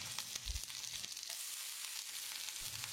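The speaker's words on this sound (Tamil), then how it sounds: "வெங்காயத்தை கண்ணாடி பதத்துக்கு வதக்கிடலாம்." Steady, close sizzling of chopped small onions frying in a hot pan, a continuous crackling hiss with occasional soft stirring knocks; no voices.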